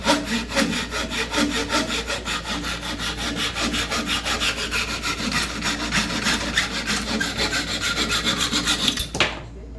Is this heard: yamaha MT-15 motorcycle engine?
no